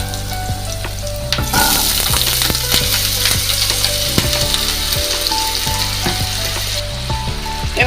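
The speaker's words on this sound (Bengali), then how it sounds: "এবার কড়াইতে দেবো সর্ষের তেল দিয়ে প্রথমে আলুগুলো ভেজে নেব।" Potatoes fry in hot mustard oil in a wok, giving a loud, dense, continuous sizzle with sharp crackles and pops, over quiet background music and without any speech.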